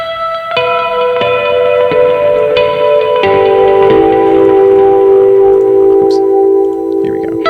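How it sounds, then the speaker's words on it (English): Sustained electric guitar notes through the Neural DSP Archetype Nolly plugin ring out with a lush reverb tail, each chord blooming and decaying into a long, washy ambience, loud and close with no talking. "So the reverb here sounds pretty cool, actually."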